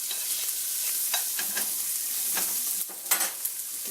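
Meat sautés in a pan, giving a close, steady sizzle with scattered scraping and clicking strokes as it is stirred.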